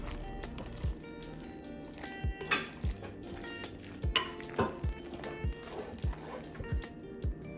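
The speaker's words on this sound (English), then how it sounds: "Here I'm mixing it up a little bit." A Jamaican sweet potato pudding mixture with grated ginger is stirred in a bowl, giving soft, quiet, rhythmic scrapes and clinks of the utensil against the container.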